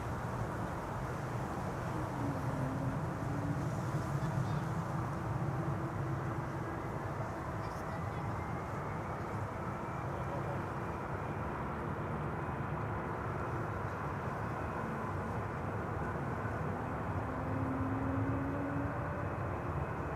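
A DHL cargo plane takes off from Schiphol, its jet engines a steady, fairly distant roar that holds evenly for about twenty seconds with no break.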